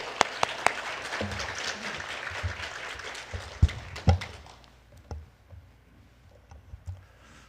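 A church congregation claps to welcome the pastor, with dense applause that thins after a few seconds into scattered separate claps and then fades to quiet.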